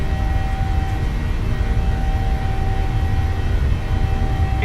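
Airliner jet engines spooling at takeoff power in Microsoft Flight Simulator, a steady, loud, broadband roar with a thin whine, holding constant throughout with no talk.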